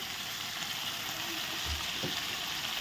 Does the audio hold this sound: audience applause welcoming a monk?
no